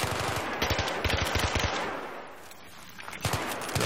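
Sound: gunfire in Battlefield 3 video game

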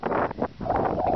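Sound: strong wind blowing on the beach

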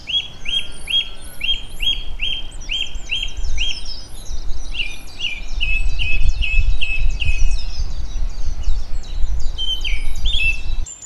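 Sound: song thrush singing

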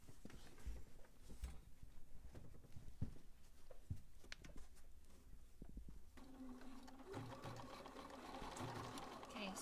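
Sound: sewing machine with edge foot stitching a hem

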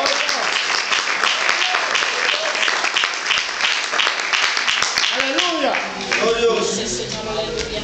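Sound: church congregation applauding

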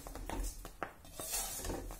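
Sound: wheat grains roasting in a pan

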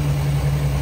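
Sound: 2019 Tahoe 700 Limited boat motor running

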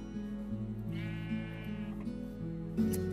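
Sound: sheep bleating in the video game Minecraft

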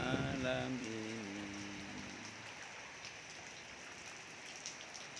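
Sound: rain falling on a school yard

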